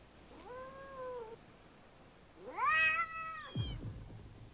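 A cat in the 1983 film Missing Pieces gives two drawn-out, clear meows, the second louder and rising, followed by a short low thump, in an otherwise quiet room.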